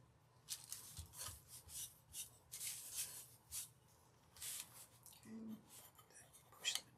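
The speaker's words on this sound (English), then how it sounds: "as I go around and rub the rest of this off" Gilding is rubbed off a wooden nutcracker in a series of soft, quick scraping strokes that come in short bursts, faint and close.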